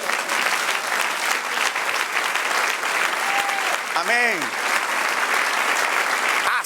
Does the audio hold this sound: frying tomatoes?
no